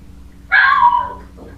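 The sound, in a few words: dog barking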